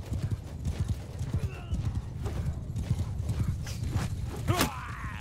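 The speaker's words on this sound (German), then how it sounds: "Wir versuchen, die Pferde aufzuhalten." Horse hooves pound in a dense galloping clatter with occasional whinnies during a battle in the video game Mount & Blade II Bannerlord, steady and fairly loud throughout, with faint talk in the background.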